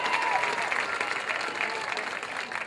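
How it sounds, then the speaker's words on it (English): A short burst of audience applause at a high school graduation ceremony, steady and mid-distance throughout, with faint voices underneath. "round of applause to Justin Hardin for pulling it off."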